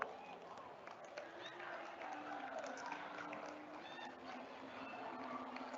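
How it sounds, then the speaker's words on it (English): Graduates at a college convocation applaud together, a steady dense wash of clapping mixed with cheering and crowd chatter that holds at an even level throughout. "Give yourselves a big round of applause"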